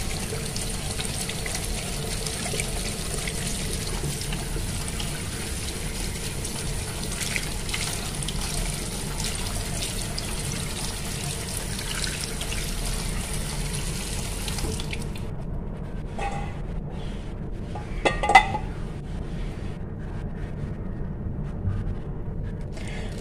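Eggs are washed under a running kitchen tap, a steady close hiss of flowing water that stops near the end, leaving a few light splashes and clinks.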